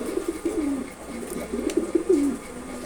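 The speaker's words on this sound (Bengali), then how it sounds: "খুবই সুন্দর একটা নর কবুতর" A male Sapchila pigeon coos close by, repeating soft, throaty rolling phrases about four times in under three seconds with no other sound around it.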